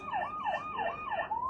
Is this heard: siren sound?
yes